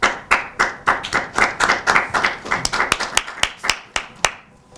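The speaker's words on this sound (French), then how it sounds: "malgré vos applaudissements" Audience at a 2015 eloquence contest petite finale claps in a lively, uneven burst of close hand claps that thins out to a few scattered claps before fading.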